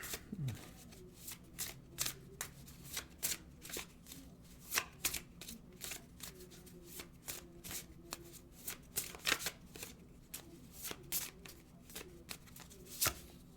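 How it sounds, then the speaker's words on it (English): Oracle cards being shuffled by hand, a steady run of crisp riffling slaps and flutters repeated many times close by, with a low hum underneath. "Let's get an oracle card."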